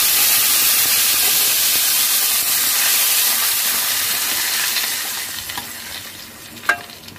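Hot tempering of mustard seeds, curry leaves and dried red chillies poured into pineapple gojju, sizzling in a loud, steady hiss that slowly fades, with a small clink near the end.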